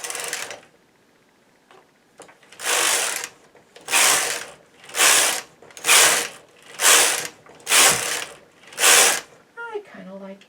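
A knitting machine carriage sweeps back and forth, knitting rows of white waste yarn. About eight loud, even mechanical whooshing passes come in a steady rhythm, each with a rattling, gear-like texture and short pauses between.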